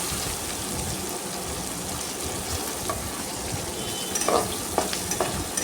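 Onions sauté in hot oil in a pan for a spicy dry fish masala, giving a steady close sizzle and crackle, with louder stirring scrapes and pops near the end.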